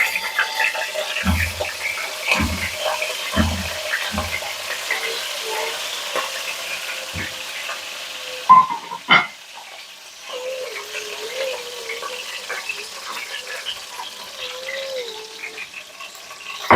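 Stuffed brinjals go into hot oil in a pan. A few soft thuds come first, then a steady, faint sizzle with brief clatters.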